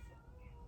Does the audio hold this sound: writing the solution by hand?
no